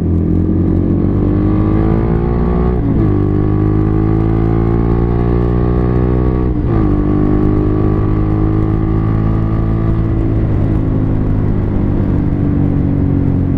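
A motorcycle engine idles and revs nearby, a loud continuous rumble with steady harmonic drone, briefly dipping and rising twice as the throttle shifts, with no voices over it.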